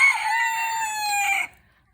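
White crested Polish rooster in a free-ranging backyard chicken flock, giving one clear, close crow that holds for over a second and then cuts off into quiet.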